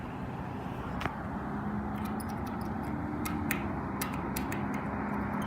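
A crosswalk pedestrian signal with an LED unit at a 19th Street crossing, mounted near a traffic light, gives sharp, short ticking beeps at an uneven pace over a steady hum of street traffic.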